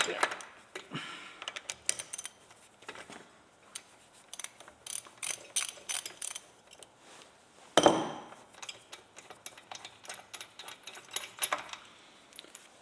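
A 13/16 plug socket ratchets in rapid, uneven clicks while removing the spark plug from a McCulloch 250 80 cc chainsaw engine, close up, with a sharp metallic knock partway through.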